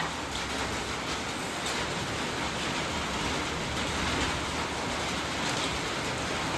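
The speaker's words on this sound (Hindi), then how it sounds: "बारिश पड़ चुकी है, ये देखो बारिश आ गई।" Steady rain falls throughout, a dense even hiss with no breaks and no voices, at a moderate level close by.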